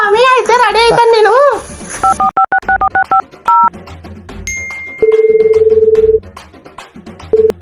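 Telephone keypad dialing tones from a phone call being placed, a run of short evenly spaced beeps followed by a longer held tone, loud and clear after a burst of music, with speech around it.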